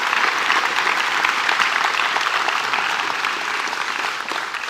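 A Houston audience at a startup showcase gives a round of applause for the competing teams, a dense, loud, continuous burst of clapping that tapers slightly near the end.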